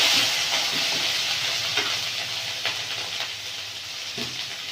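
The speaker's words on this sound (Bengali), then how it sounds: "এই ভাজা ভাজা হয়ে গেছে, এবারে দিয়ে দেবো পেঁয়াজ বাটা" Onion paste hits hot oil in a village kitchen pan for a fish curry, giving a loud, steady sizzle with scattered crackles and stirring that slowly eases off, with no talking.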